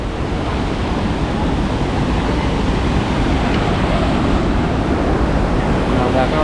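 Dudhsagar waterfall in Goa pours down from above, a dense, continuous roar of falling water filling the air at steady loudness, like heavy surf.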